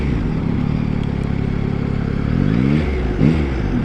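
A Yamaha MT-09 SP naked motorcycle rumbles close by at low revs, its engine note rising briefly in a couple of short blips over a steady idle.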